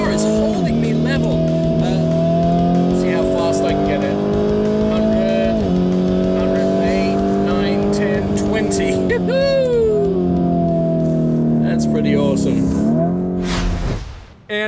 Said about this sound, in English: slamming on the brakes coming into the turn here, really punishing this car as I turn a corner